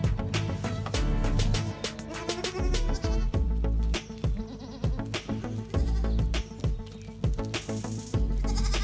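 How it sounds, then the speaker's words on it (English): Boer goats on a farm bleat repeatedly over a busy, dense background of overlapping sounds, the calls loud and close, coming in irregular bursts throughout. "These are boar goats."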